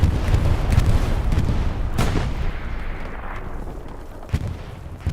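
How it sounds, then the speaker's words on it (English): Bombing run explosions in the wartime shooter game Hell Let Loose: a constant heavy rumble of blasts and gunfire, with a sharp boom near two seconds and another near four and a half seconds, loud and dense. "Bombing run."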